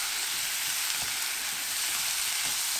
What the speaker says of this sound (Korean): 골고루 볶아주세요.